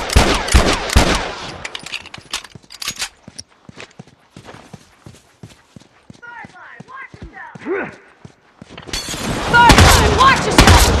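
Rifle gunfire in The Last of Us Factions, the online multiplayer game: sharp shots open the stretch and come back thick at the end, with scattered pops between and people talking over the fighting.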